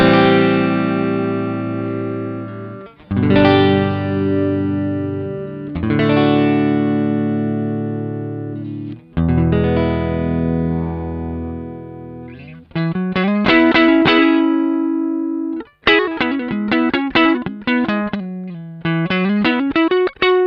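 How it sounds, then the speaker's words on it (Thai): An electric guitar on a clean amp setting, fitted with a Thermodynamics tremolo using three springs, plays sustained chords and then quicker picked notes with a few pitch-bending tremolo dips, loud and close with no talk. "ลองเสียงนี่เสียงคลีนครับเหมือนเดิมแอมป์ปรับเหมือนเดิมนะครับ"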